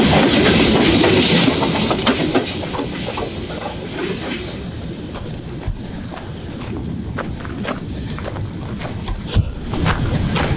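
Freight train and locomotive rolling past up close at high speed: a loud, steady rumble with rhythmic wheel clatter and metallic clanks that fill the whole stretch.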